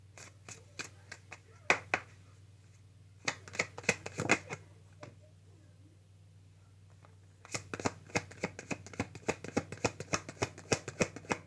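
Tarot cards shuffled by hand nearby, in quiet bursts of quick riffling snaps and taps separated by short pauses, with no talk.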